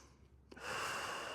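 Deep, full breath taken during a beginner yoga flow, a soft airy inhale swelling to a steady, close rush of air that holds loud through the end.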